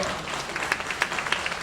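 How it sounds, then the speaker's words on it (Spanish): An audience breaks into applause, a dense wash of clapping with a few louder individual claps standing out, heard briefly and fairly close. "A ver, un aplauso."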